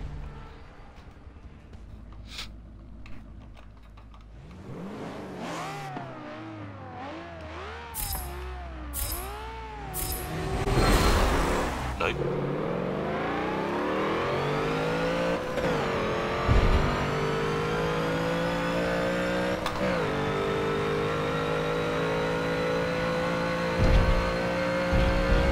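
Volkswagen Ghia drag car with a 900-plus horsepower engine in the racing game Forza 7, loudly revving and climbing through gears with rising, falling pitch sweeps, then a sustained high roar down the strip.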